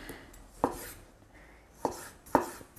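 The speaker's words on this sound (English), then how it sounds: "by chopping the food with a sharp knife" A sharp knife chops vegetables for an Israeli salad on a board, four crisp separate thunks spaced unevenly, close and clear over a quiet room.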